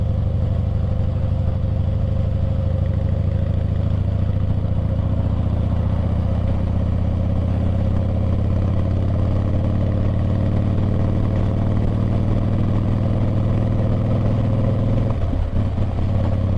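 A 2012 Harley-Davidson Heritage Softail Classic runs at steady speed in fourth gear, its engine a continuous low, loud rumble with faint clatter throughout and no talking.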